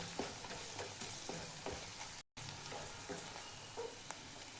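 Red chilli powder and coriander powder frying in oil in a pan for a vegetable dish, a soft, steady sizzle with faint stirring scrapes and one brief gap of silence.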